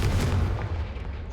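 A Confringo spell from Hogwarts Legacy lands as a short, booming fiery blast, with a deep low thump that rumbles briefly and fades.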